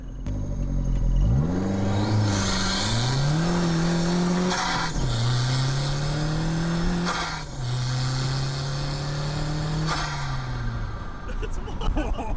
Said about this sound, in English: It's so much turbo noise, I love it!